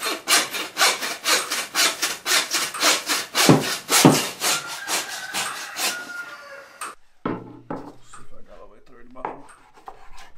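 A hog knuckle is cut through during butchering with a rhythmic series of rasping, sawing strokes, about a dozen close and loud, then a few scattered scrapes and knocks, with speech faint underneath.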